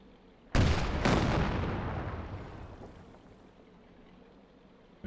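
A Pershing tank cannon in Company of Heroes 2 fires two heavy booming shots in quick succession, followed by a long rumbling decay that fades over several seconds.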